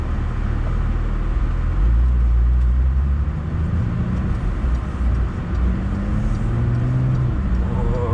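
A Porsche 992 Carrera 4S with sports exhaust runs under load from inside the car, a low steady engine drone with rising pitch sweeps as it accelerates, constant and moderately loud.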